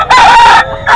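A rooster crows loudly and close by, one drawn-out call followed by the start of another.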